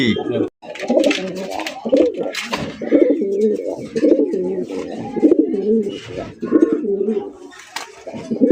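Pigeons at a village pigeon farm in Bangladesh coo close by in repeated throaty, rolling phrases, several birds overlapping almost continuously, with a voice talking at moments among them.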